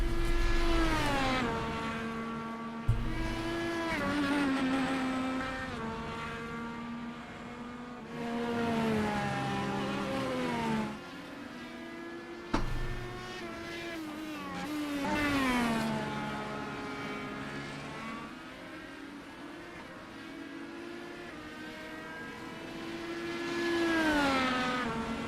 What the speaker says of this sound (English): I hear a damaged car.